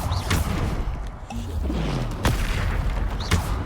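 Bombarda explosion spells going off in the video game Hogwarts Legacy, several booming blasts and sharp cracks over a busy din of combat effects, with a shouted spell incantation.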